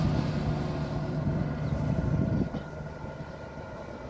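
Train carriages rumble across Barmouth bridge, a steady low rolling roar at middle distance that swells briefly and then eases off, with no voices.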